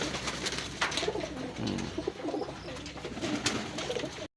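Racing pigeons coo steadily and close by, a soft throaty warble repeating without pause over a noisy background.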